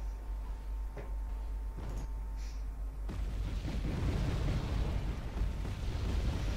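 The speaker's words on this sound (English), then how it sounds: "he's bombing the AA that was shooting at my Hornet" Aircraft bombing anti-air units in Wargame: Red Dragon: faint ticks and distant pops at first, then a sustained rumbling wave of explosions that swells and rolls on, moderately loud.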